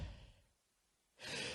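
A stand-up comedian mimics a pop star's heavy breathing into a microphone: two breathy exhalations, one at the start and a louder, fuller one at the end, separated by a short near-silent pause.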